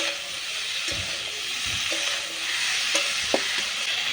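Food sizzles in a hot pan over a wood fire while a utensil scrapes and knocks through it in a few irregular strokes.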